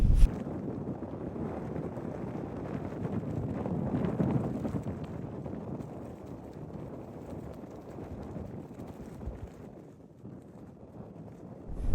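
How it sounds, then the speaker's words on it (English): Strong wind buffets the microphone on a mountain top, a steady, loud roaring rumble that swells and dips slightly with no talk over it. "Not too sure if you can hear me over the wind"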